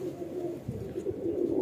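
Pigeons in a breeder's loft coo continuously in low, rolling murmurs, several birds overlapping at close range with a steady throaty rhythm throughout.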